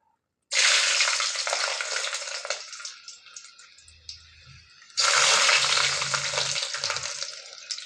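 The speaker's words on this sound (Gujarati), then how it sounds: "તો મિત્રો તેલ ગરમ થઈ ગયું, તો અંદર આપણે જીરું નાખી દઈએ, સૂકા મરચાં 3," Cumin, three dried chilies and garlic dropped into hot oil for a tomato-onion chutney, a loud close sizzle that bursts in, eases to a steady crackle with some stirring, then surges again as more goes in.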